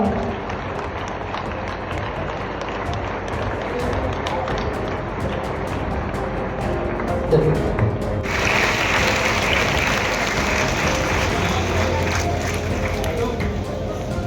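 An audience claps for a young girl at a public gathering in Siddipet. The applause swells about halfway through into a dense, sustained clatter, with voices murmuring underneath throughout.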